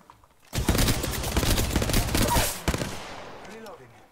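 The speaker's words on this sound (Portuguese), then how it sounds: "Shots fired at me" In the Apex Legends game, a sustained burst of rapid automatic gunfire lasts about two seconds, followed by a single sharp shot and fading echoing tails, with no voices.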